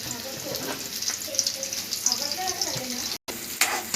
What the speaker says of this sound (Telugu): సన్నంగా కట్ చేసుకున్న ఉల్లిపాయల్ని వేడెక్కిన నూనెలోని